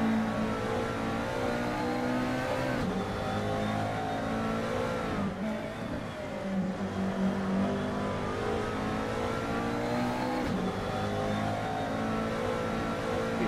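A McLaren GT3 race car in a racing sim game at Spa drones steadily at high revs, pitch sweeping up through gears with brief dips at shifts, continuous and dense throughout.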